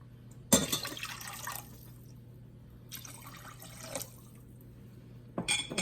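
Water poured into sugar in a pot to make a lemon sugar syrup for a traditional Albanian dessert, arriving in three splashy pouring bursts separated by quiet pauses, close and fairly clear.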